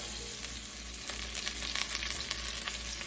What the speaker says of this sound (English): you kind of want to try and sear the meat and brown it off on each side